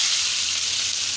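Bitter gourd and potato frying with green chili and onion give a loud, steady, dense sizzle with no pauses.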